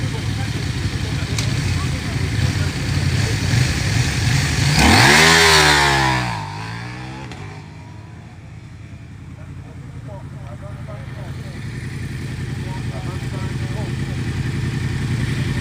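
A rally motorcycle roars past at a special stage start near Anville during the 2024 Rallye de Charente, its engine revving loud and sweeping by, then fading. The bike is stock apart from prepared suspension and exhaust, and a voice talks throughout.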